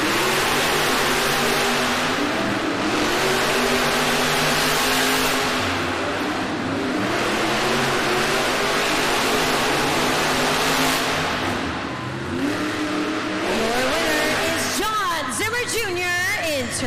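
Monster trucks roar through a Monster Jam arena race in Worcester, with Terminal Velocity among them. Engines rev hard and steadily throughout under a loud crowd and an announcer's voice, and a rising whine sweeps up near the end.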